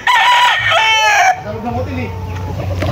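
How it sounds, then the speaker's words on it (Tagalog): At a gamecock farm, a rooster lets out a loud, close crow that cuts off abruptly, followed by lower, softer clucking and murmuring from the flock. "At ganito kadami yung manok dito sa Tilaok Game Farm."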